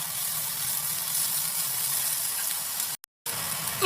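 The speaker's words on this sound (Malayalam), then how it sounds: "എണ്ണ ചൂടായിട്ടുണ്ട്. ഇനി ഇതിലേക്ക് നമുക്ക് ഇഞ്ചി വെളുത്തുള്ളി പേസ്റ്റ് ആഡ് ചെയ്യാം." Ginger garlic paste hits hot coconut oil in a pan and sizzles with a steady, close, bright frying hiss that holds evenly, broken by one brief gap of silence near the end.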